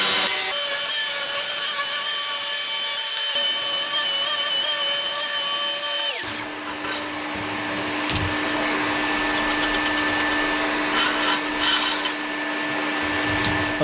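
A saw cuts 6 cm wooden strips in half lengthwise at a 45-degree angle for a French cleat workshop wall, a loud steady whine that drops in pitch midway as the blade bites, then keeps droning under the cut.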